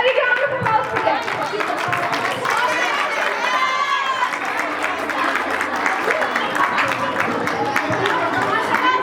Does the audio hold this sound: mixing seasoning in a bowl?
no